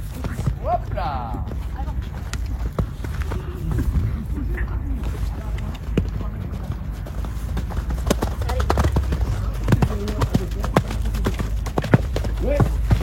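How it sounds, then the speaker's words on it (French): Horse hooves pound in a rhythmic galloping clip-clop on the ground, close and continuous, while people talk over them now and then. "Tu remets un petit peu de galop."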